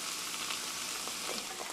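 Hash browns sizzle and fry in a pan, a steady broadband crackle with a few faint clinks, close and continuous with no voices.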